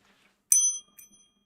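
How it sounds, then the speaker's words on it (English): A small bell is struck once, a bright ringing ding that decays quickly, followed by a fainter second tap, close and alone in a quiet room. "I got a bell here."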